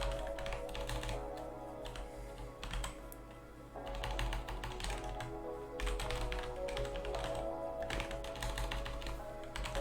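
Rapid typing on a computer keyboard clatters in uneven bursts of close key taps, with short pauses between bursts, over a steady tonal background hum.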